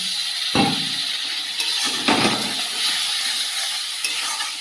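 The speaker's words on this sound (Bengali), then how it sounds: "দিয়ে মশলাটাকে ভালো করে কষিয়ে নেব" Spice paste for a mutton (goat meat) curry stir-fried in a pan after a splash of water, a continuous sizzle broken by a few sharp clanks and scrapes of the spatula against the pan.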